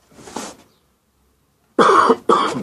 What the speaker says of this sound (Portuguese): uma tosse